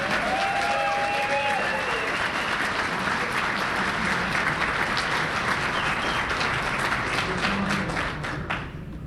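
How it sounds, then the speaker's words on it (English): Loud, sustained audience applause at a live election-night political event for Jason Kenney, dense continuous clapping from a large crowd with a brief whistle early on, tapering off at the very end. "Let's give Jason Kenney a round of applause."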